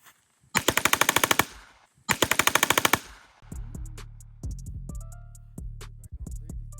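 Two loud, rapid bursts of fully automatic gunfire from a firearm at close range, each about a second long, followed by scattered clinks, rattles and ringing metallic tones as the shooting stops.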